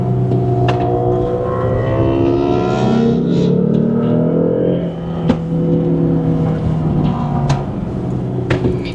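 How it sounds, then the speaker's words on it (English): A 2013 Lexus GS F Sport AWD with a V6 pulling away under throttle, its engine note rising in a smooth climbing drone heard from inside the cabin, with a few clicks and knocks over the steady hum. "Now I'm putting gas into it."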